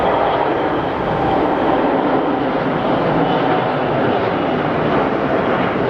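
A jet airliner takes off at Geneva Airport, its engines a loud, steady roar of broadband thrust that holds without a break, close and powerful, with no voices over it.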